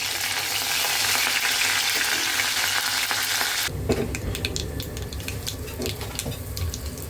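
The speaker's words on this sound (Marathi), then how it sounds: "लसूण टाकला, कढीपत्ता आणि लाल मिरची टाकली. तर ही आपली आहे सांबारची फोडणी." Garlic, curry leaves and red chili hit hot oil in a sambar tempering, giving a loud, dense, steady sizzle for several seconds. It then drops to a lighter crackle with scattered pops, close by and without voices.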